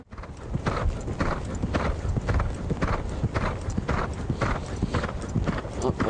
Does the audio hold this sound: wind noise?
no